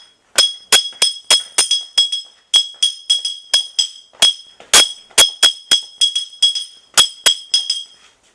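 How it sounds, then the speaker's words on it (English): A spoon strikes a glass bottle in a quick, syncopated soca rhythm: about twenty bright, ringing clinks, close and loud, with short pauses between phrases. "You tap the spoon with the bottle."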